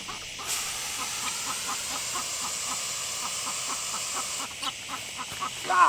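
Insecticide spray hisses in a steady broadband wash for several seconds, with chickens clucking nearby in the background.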